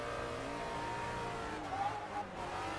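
A car's engine roars at high revs through a drift driven without a handbrake, using a clutch kick, giving a steady, sustained drone that wavers and swells slightly, with a faint tire squeal near the end.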